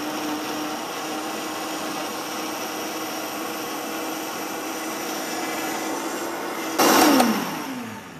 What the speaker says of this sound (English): as you're watching in the Vitamix, you want to blend it until all the particulate is just very small